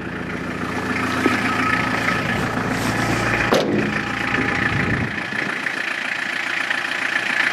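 A car engine idles roughly just after starting, following a week of not running. The close, steady rumble runs for several seconds before its low end drops away near the end.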